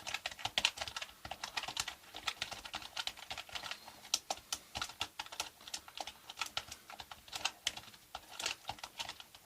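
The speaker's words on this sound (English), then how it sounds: "I can type very quickly." Rapid, close typing on a computer keyboard: a dense, continuous run of crisp key clicks with an uneven rhythm and no other sound.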